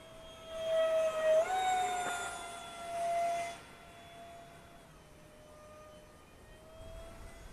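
A Freewing F-86 64mm EDF RC jet on an upgraded 3S+ power system flies past, its ducted-fan whine rising loud and close for the first few seconds, swelling again briefly, then fading into a thinner distant drone.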